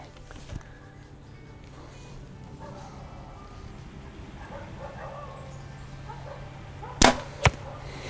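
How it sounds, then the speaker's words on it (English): Arrows loosed from a Backyard Bows Xpedition APX bow, giving two sharp thuds close together near the end, after a long stretch of quiet outdoor background with faint distant sounds. "the arrows are coming off here nice. It has a little thud."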